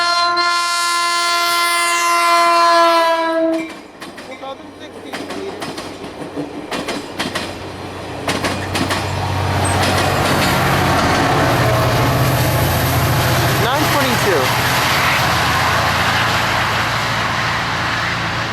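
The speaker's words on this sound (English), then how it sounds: "we have a Caltrain coming out of the yard" A Caltrain passenger train sounds a loud, sustained horn, then rumbles and clatters steadily past close by at College Park station, with the wheel and rail noise holding strong to the end.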